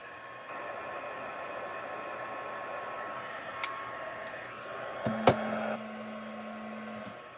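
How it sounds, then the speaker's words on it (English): A heat gun drying gesso on a craft sign, a steady blowing whir held close for several seconds, with a couple of small knocks and a brief clatter near the end. "Speaking of the heat gun, I'm just going to dry this a little more"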